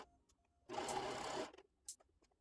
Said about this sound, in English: I'm going to run it through the sewing machine as well